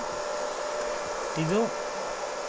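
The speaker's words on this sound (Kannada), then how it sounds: "ಇವಾಗ ನೋಡಿ ನಮ್ಮದು ವೆಲ್ಡಿಂಗ್ ಮಿಷಿನ್ ಆನ್ ಆಗಿದೆ" A welding machine set up for welding iron and steel is switched on and gives a steady, even electrical hum close by, with a brief voice sounding partway through.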